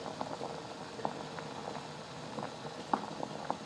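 Dumplings boil in a pot of water, with soft irregular bubbling pops and gentle simmering patter, close and quiet with no talk.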